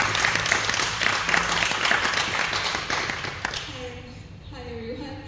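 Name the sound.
audience applause at a meeting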